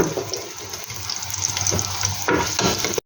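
Chopped garlic sizzles and crackles in a small amount of hot oil in a pan, a steady close frying hiss with a few clinks from stirring.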